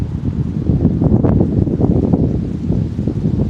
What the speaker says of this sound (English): Feel the wind. Hear the wind.